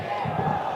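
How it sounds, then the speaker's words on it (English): A hockey crowd at a Uttar Pradesh Wizards vs Mumbai Magicians match chants a countdown before the second half, a dense, roaring mass of voices filling the arena throughout the brief moment. "Crowd counting it down."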